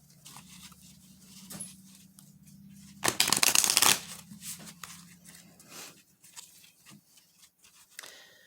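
Tarot cards being shuffled close by, a burst of rapid riffling in the middle surrounded by softer handling and tapping of the deck.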